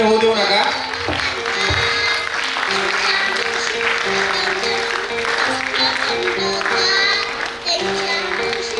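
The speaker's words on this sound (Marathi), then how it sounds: "टाळ्या कमी होऊ देऊ नका." An audience claps along to a patriotic Marathi song while voices sing over dense music, the rhythmic applause blended into the loud, continuous performance.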